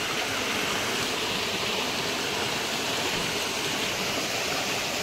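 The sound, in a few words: flowing water stream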